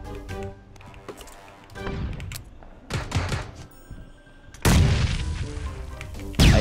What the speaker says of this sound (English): I saw an explosion and it scared me.